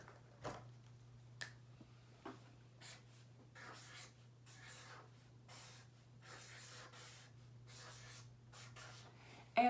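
Pen or chalk strokes on a surface come in short, scratchy bursts of varying length over a low steady hum, quiet and close, with a few sharp taps between strokes.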